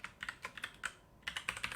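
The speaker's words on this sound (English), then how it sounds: "You start here by typing in" Quick bursts of typing on a computer keyboard, light clicky keystrokes in two short runs separated by a brief pause, close and quiet.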